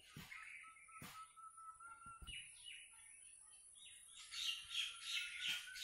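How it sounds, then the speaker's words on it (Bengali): Birds squawk and chirp outdoors in a rural yard, several sharp calls spread across the moment followed by a busier burst of chirping near the end, fairly faint with no speech. "আমি ভিডিও করতে গেলি পাখি ডাকে"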